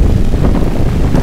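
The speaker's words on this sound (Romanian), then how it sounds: "bate vântul" Wind blowing outdoors at the Awaroa reserve, a steady low rumbling gust buffeting the microphone, loud and continuous, with no voices.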